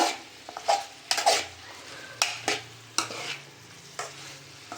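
Ginger garlic paste frying in a pan with tomato and onion for chicken, a soft sizzle under several sharp metal spoon scrapes and clinks spaced through the sound, with no voices.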